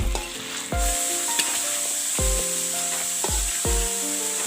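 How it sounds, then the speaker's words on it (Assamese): Mutton and potatoes fry in a pan for a curry, a loud steady sizzle broken by about five sharp knocks of a spoon or ladle against the metal, each ringing briefly. "এতিয়া ভালদৰে 2-3 মিনিট আকৌ ভাজিম"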